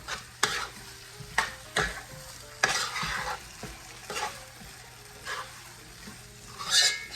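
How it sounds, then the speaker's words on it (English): Eddoes are stirred through a pot of spicy Guyanese snow crab curry: repeated scraping spoon strokes in an uneven rhythm over a close, continuous frying sizzle. "Give it a stir"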